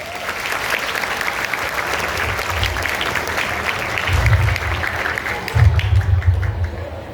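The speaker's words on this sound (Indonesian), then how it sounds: "Tepuk tangan dulu." Audience applause fills a Maulid Nabi religious gathering, a dense and steady clatter of many hands that holds throughout and swells slightly toward the end, with low thumps underneath.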